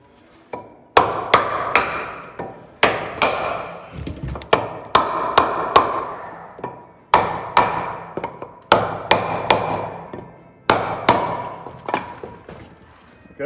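Sharp hammer taps drive a seal into a truck's steering yoke area, struck by hand without a seal installation tool, coming in quick bursts of ringing metallic knocks with short pauses between groups, close and loud with no talk.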